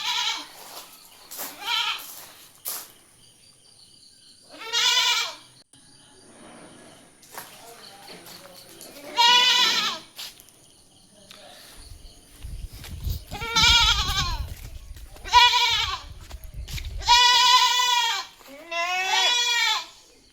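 Goats bleating in pens at a livestock sale, kids from two nanny goats: several separate bleats in quick succession, some wavering and layered, close and fairly loud, with a low rumble in the background midway.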